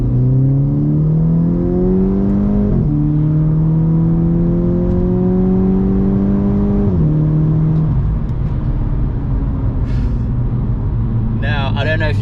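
Car with an upgraded Airtec intercooler accelerating hard through the gears, engine note climbing steadily then dropping at each shift, loud and close from inside the cabin, with a brief voice near the end.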